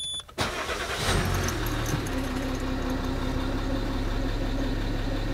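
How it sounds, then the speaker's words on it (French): A car's engine idles steadily while the steering wheel is turned left and right to purge air from the power steering, a continuous low rumble and whine after a brief bump at the start. "Il suffit de tourner le volant à gauche et à droite."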